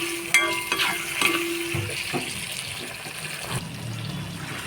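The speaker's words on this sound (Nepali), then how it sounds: "अब टमाटर हालेर एकछिन गल्न दिन्छु" Tomatoes frying in a pan for a simple Nepali dish, a continuous close sizzle with sporadic stirring clatter and scrapes, no one talking.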